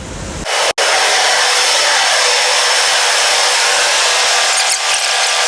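Loud, steady broadband roar of flour mill machinery cleaning wheat, a constant close industrial whoosh that starts abruptly and holds without a break.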